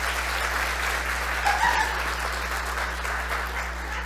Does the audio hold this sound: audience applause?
yes